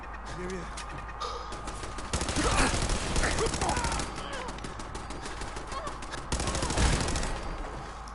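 Rapid automatic gunfire from a turret gun in Fallout 4 rattles in dense bursts, loud and close, with brief gaps between volleys and a voice talking over parts of it.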